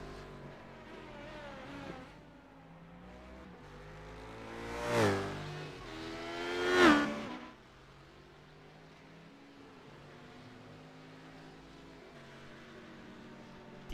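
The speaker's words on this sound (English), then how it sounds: "You hear that American muscle charging around the racetrack." A Corvette race car engine roaring around the Red Bull Ring in a sports car racing game, a sustained drone that swells into two sharp passes before settling back to a steady background hum.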